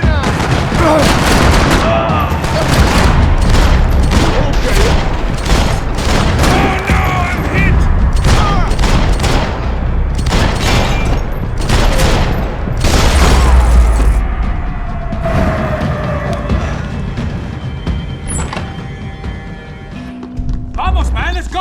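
Dense bursts of gunfire in the video game Max Payne 3, rapid loud shots and booming impacts piling up over a long stretch, with shouted voices mixed in and the barrage thinning toward the end.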